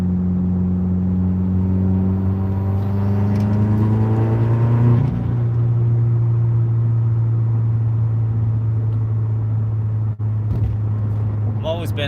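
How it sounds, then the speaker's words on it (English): Steady engine drone from inside a moving Subaru, a low constant hum with a gear change partway through and a faint rise in pitch before it. "I'm driving my Subaru."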